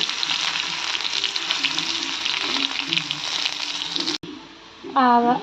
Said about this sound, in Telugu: గ్యాస్ నూనె కాగింది. వెల్లుల్లిపాయలు వేసాను.